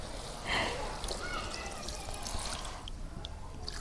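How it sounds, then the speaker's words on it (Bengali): Water splashes and pours into a pan of eggplant and tilapia fish curry in a home Bangladeshi kitchen, a steady watery rush lasting a few seconds with faint background noise. "এখন ঝোলের পান দেই"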